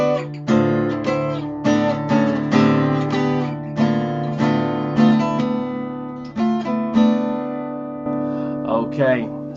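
Last section of a riff on a guitar tuned down to D: loud, close strummed chords repeating in a steady driving rhythm, each attack ringing into the next, with no talking.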